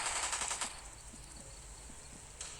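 Rapid bursts of video-game gunfire crackle in a quick volley at the start, then thin out into scattered faint shots over a steady hiss before another burst near the end.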